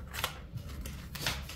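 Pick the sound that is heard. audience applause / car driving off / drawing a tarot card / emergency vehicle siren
drawing a tarot card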